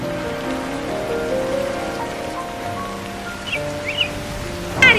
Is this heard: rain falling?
yes